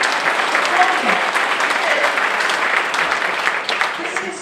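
An audience at a Chamber of Commerce address by a governor applauds in a sustained, fairly loud wash of clapping, with faint voices under it.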